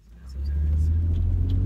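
A car interior carries a steady low engine rumble that builds over the first half second and then holds, close and continuous, with no talking.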